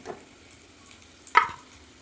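Pieces of lentil dhoka fry in oil as they are turned, a faint background sizzle with one sharp stirring clatter and crackle near the end.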